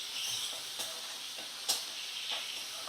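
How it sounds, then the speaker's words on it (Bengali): Bhola fish pieces seasoned with turmeric and salt fry over a medium flame, giving a steady soft sizzle and hiss with a few faint clicks and bumps from the pan. "হলুদ গুঁড়ো আর নুন দিয়ে একটু ভাজা করে নেব।"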